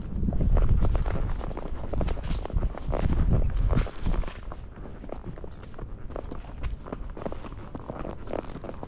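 Hooves of a Rocky Mountain Horse clop on a hard-mud dirt trail as it walks down a hill, with steady irregular footfalls up close, heavier at first and lighter later.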